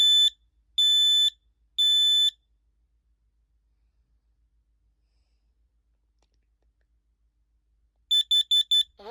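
A COSM XTR-B smoke alarm under test lets out three loud, piercing beeps, goes quiet for several seconds, then starts a faster burst of four beeps. The sound is close and clear, with no talking.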